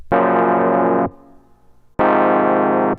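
Two sustained, even chords played on a regular electric piano, each lasting about a second with a clean start and stop, separated by a short gap of fading decay.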